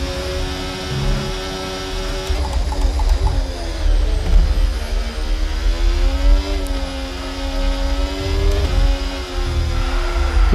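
An F1 car engine in F1 24 revs hard under throttle at Abu Dhabi qualifying, a loud rising and falling whine with gear changes and throaty low rumble, continuous for about ten seconds.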